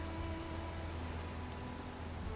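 Steady rain in the video game Valheim, a dense even hiss of falling drops with a low rumble beneath, continuous and moderately quiet with no voices.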